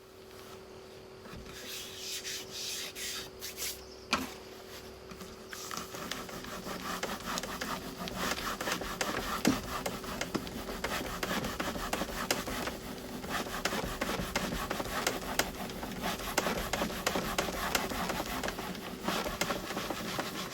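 Paper rubbed firmly onto a carved woodblock with a baren, a steady dry scraping and rasping that grows louder after a few seconds and continues in rapid back-and-forth strokes over a faint constant hum.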